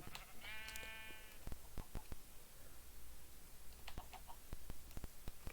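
A Minecraft sheep gives one clear bleat after being hit, followed by scattered thumps and a couple of faint clucks over quiet game ambience.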